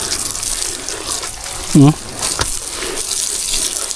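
Water running steadily while dwarf coconuts are washed outdoors, a continuous hissing flow with a brief splash, under sparse nearby talk.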